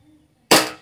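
An Elite Force Glock 19 airsoft pistol fires once, producing a crisp, loud snap that fades quickly, with no voices around it.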